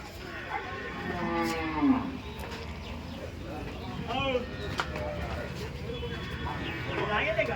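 Gir cows moo repeatedly at a busy cattle market in Dhule, Maharashtra, their low calls overlapping amid the murmur of people nearby.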